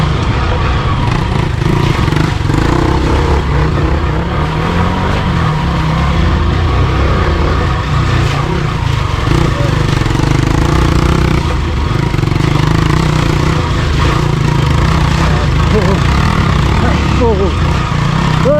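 Hero XPulse motorcycle ridden along an off-road mountain trail, its engine droning loud and steady throughout with uneven throttle surges, and voices talking faintly beneath.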